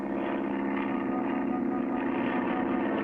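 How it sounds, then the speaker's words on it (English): A small cartoon airplane taking off, its engine a steady, droning hum that holds evenly throughout. "The handcar's too slow. We'll take the plane."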